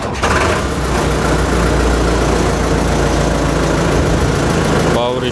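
A 55 HP tractor with power steering idles loudly and steadily nearby, its heavy low-pitched engine rumble continuous throughout, with a voice briefly audible near the end.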